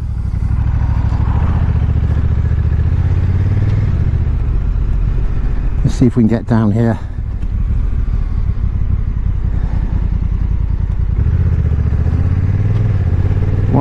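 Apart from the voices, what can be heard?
Honda NT1100 motorcycle riding through traffic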